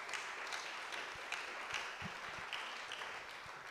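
Audience applause at a tech conference, SophiaConf 2021, a steady, fairly faint wash of many hands clapping together that holds evenly for several seconds.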